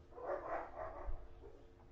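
Several dogs, siblings squabbling with each other, bark and yip at a moderate distance in a short burst of overlapping, uneven calls.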